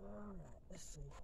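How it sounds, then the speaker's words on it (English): Dogs whine with a high, gliding whimper near the start, heard indoors under a person's nearby speech. "Excuse the dogs, y'all. They're just used to being around me all the time."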